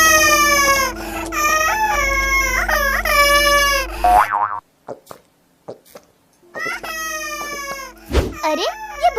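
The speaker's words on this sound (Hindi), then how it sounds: "अरे ये बच्चों की रोने की आवाज कहाँ से आ रही है?" Cartoon babies wail in several long, pitch-swooping cries that stop for a few seconds of near silence with soft thuds, then resume, loud and close.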